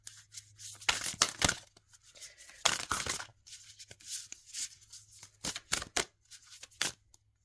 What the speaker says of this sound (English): So let's pull from this Halloween deck.